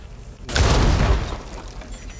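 An explosion goes off in Rainbow Six Siege, a sudden loud boom that erupts after a short quiet lead-in and rumbles on and fades over about a second and a half.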